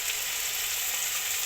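Soya chunks, known as meal maker, frying in a pan as a biryani base. The sizzle is steady and dense and fills the whole moment on its own, with no voices.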